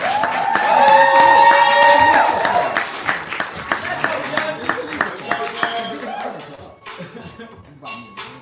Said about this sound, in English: Keep the applause going for the next one.